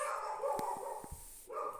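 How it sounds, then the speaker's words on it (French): A female dog at home barks at people passing the house: a few short, sharp barks in quick succession, heard at moderate distance over a steady background hum. "c'est ma chienne. Elle aime pas quand il y a des gens qui passent devant chez nous, du coup elle aboie."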